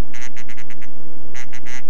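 A duck call blown to imitate a feeding call gives rapid, loud, close bursts of quacking chatter in two runs separated by a short pause.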